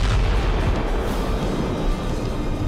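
Wartime landmine blast beneath a Ukrainian tank in the Robotyne area, a loud, sustained roaring rumble with heavy low-end boom and crackle filling the whole stretch, no speech.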